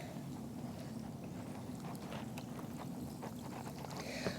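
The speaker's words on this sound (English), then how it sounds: "So we just swish it around in this mixture for a little bit" Strawberries and grapes swished around in a bowl of produce wash water, a steady close sloshing and rushing of liquid with faint clicks, continuous and moderately quiet, no voices.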